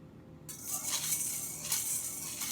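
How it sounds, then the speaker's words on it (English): A small child stirs homemade cookie batter of flour, salt and milk in a bowl, producing close, continuous clinking and scraping of a utensil against the dish, with no talking. "Now stir good."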